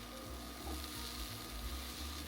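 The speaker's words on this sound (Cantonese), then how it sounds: "將嗰啲紅葱頭絲鋪平喺個鑊面度，慢慢等佢煎到變焦香。" Thinly sliced shallots spread flat in a wok fry slowly toward caramelized browning, giving a faint, steady, even sizzle with no talking.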